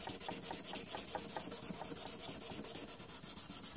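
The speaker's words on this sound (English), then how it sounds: "Just keep sand and polish, sand and polish, sand and polish." A knife blade being hand-sanded and polished, giving a steady, rhythmic back-and-forth rubbing and rasping that repeats several times a second, close and fairly quiet, with no voices.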